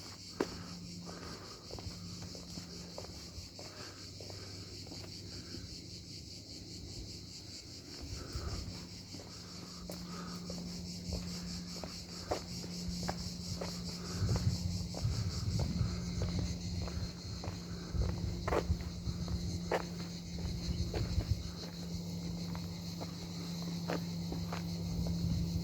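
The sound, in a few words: cicadas chirping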